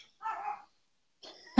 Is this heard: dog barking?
yes